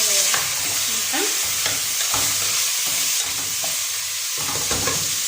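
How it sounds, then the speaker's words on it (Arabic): Onion fries with meat in a pot for Moroccan corn couscous, sizzling steadily up close with intermittent stirring scrapes. "البصله ديالي غادا كتشحر مع داك اللحم"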